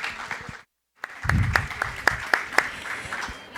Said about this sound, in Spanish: Démosles un aplauso de bienvenida